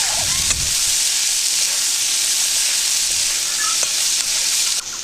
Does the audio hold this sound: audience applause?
no